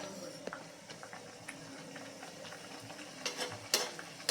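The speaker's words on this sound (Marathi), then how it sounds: "इथे तूप छान गरम झाले तर आता एक एक पुरी त्याच्यामध्ये सोडून घेऊयात" Sweet puris frying in hot ghee, a soft steady sizzle and bubbling heard close up with a few louder crackling spurts near the end.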